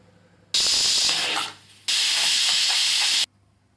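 A pressure cooker cooking carrots, beans, peas, potatoes, tomato and onion vents steam in a loud, steady hiss, with two long bursts separated by a brief dip, alone with no talk.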